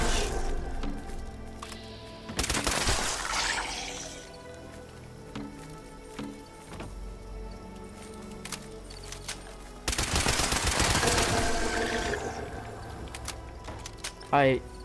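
An Anti Armor Explosive Pipe Rifle fires in a video game, with two loud bursts of rapid shots and impacts standing out against steady background noise.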